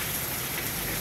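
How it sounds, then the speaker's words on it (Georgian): Heavy rain pours onto city streets after a thunderstorm, with water running through the roads. It makes a dense, steady hiss of drops, loud and continuous, with no voices. "აი ასე მუქრიალებს წვიმა"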